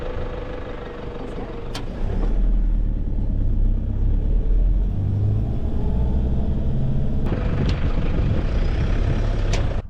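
A car rumbles along a sandy track toward desert country, its engine and road noise loud and steady from inside the cabin after a quieter start, with a couple of brief clicks.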